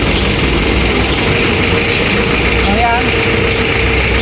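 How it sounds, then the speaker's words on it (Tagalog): Car air conditioning compressor running steadily after its magnetic clutch relay was replaced, a continuous engine-bay drone with a low idling hum; someone talks over it briefly near the end. "gumana na yung compressor, may lamig na rin siya"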